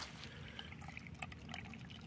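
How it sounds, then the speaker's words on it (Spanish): A small stream of water trickles steadily and faintly in the open air beside olive trees and a young orange tree, with soft splashy detail over a low background. "Ahí tenéis todavía el chorrino de agua, ¿no veis?"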